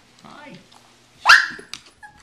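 A dog gives one sharp, loud, close bark, followed by a couple of smaller yips, with brief talking from a person just before it.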